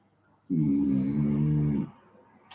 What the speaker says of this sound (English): He's such a good snorer.